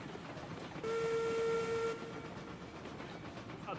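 A locomotive in the train simulation game Railroads Online rolls along with a steady rumble, and a loud, clear whistle blast sounds for about a second partway through before the running noise carries on alone.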